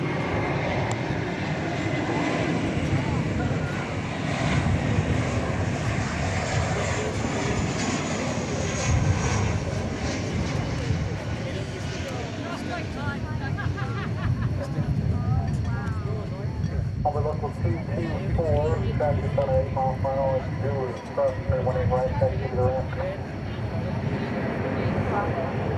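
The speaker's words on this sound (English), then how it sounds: "And lifting off there is American Flight 272 to Sacramento" American Airlines Airbus A321 airliner taking off at DFW Airport on a hot summer day, a loud sustained jet engine roar filling the scene throughout, with a person talking over it.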